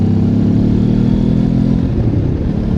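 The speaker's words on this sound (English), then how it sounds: "beautiful engine sound or exhaust sound also to be captured on the microphone" A car engine and exhaust during a blipping downshift, a loud, close, throaty rev that rumbles steadily and then roughens slightly as the revs settle, with no voices.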